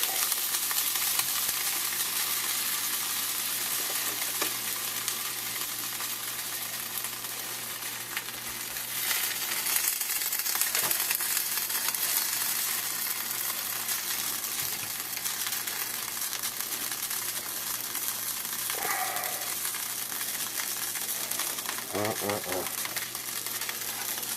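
Lean ground-chuck chili cooks in a pot on a stove with a steady, dense sizzle, and a spoon scrapes and stirs briefly near the end.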